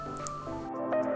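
Soaked jeerakasala rice tipped into a pot of boiling salted water: one brief close wet splash and squish, with a few drips trailing off.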